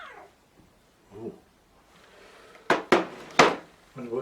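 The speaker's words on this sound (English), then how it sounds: "Did you hear meowing?" A pet cat named Freddy gives a few faint meows, then a burst of three sharp knocks or clatters close by, followed by one more short sound.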